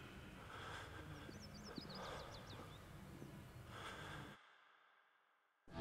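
A bearded man from a CS:GO config sniffles and breathes heavily through his nose for several seconds, close to the microphone over steady background noise, before a brief silence and a final sharp snort.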